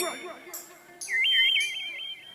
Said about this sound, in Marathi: लावणीसाठी वाजवा लागतात कडक शिट्ट्या वाजवा